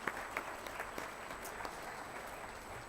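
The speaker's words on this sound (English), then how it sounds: "So I just want to give everyone a quick round of applause that's standing around here and everywhere else." Audience applause at a high tea award ceremony, a steady wash of many hands clapping at moderate distance for about three seconds, with no voices over it.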